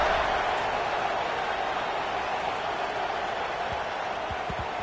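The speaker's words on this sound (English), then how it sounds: "this crowd is buzzing after that last score" A stadium crowd in the NCAA 25 football game gives off a steady, broad roar that stays even at moderate loudness throughout, with no clear voices standing out.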